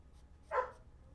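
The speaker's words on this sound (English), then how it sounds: "It's that dog again." A single short dog bark, fairly faint and somewhat distant, heard indoors against a quiet background.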